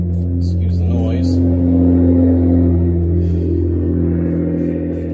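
A loud car rumbles past outside a forging workshop, its low, steady engine drone with strong tonal harmonics holding for several seconds and slowly fading, with a bit of background clatter and no speech.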